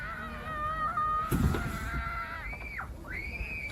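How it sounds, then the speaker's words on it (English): Faint, distant screaming cries carry from outside an RV at night. Several drawn-out, wavering calls rise and fall in pitch over a quiet background. "Don't you hear that screaming?"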